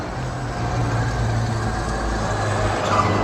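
A Traxxas Slash 2WD remote control car runs at quarter power, giving a steady, continuous motor whine and drone that holds at an even level for the whole stretch, with a low hum underneath and no talking.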